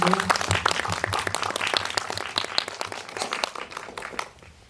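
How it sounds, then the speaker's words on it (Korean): An audience at an indie cinema talk session claps for an actor, a crisp, lively round of many hands that thins and fades toward the end. "강기로 배우님께도 박수 한번 부탁드릴게요."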